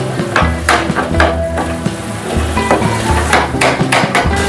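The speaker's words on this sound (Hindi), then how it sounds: "हम इसको मिक्स कर देंगे।" Softened tomatoes get stirred in a pan for Lahori keema, with repeated loud knocks and scrapes of a spoon against the pan over a low sizzle, close and irregular, with no talk.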